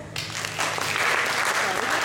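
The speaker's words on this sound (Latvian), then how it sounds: "Aplausi!" An audience claps steadily at a regional Latvian folk dance group concert in Nīca, the dense applause rising after a brief start and holding loud and even to the end, with no talk over it.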